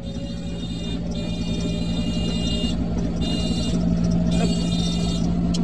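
A car drives along a narrow single-lane road, a steady engine rumble and road hum that stays even and close throughout.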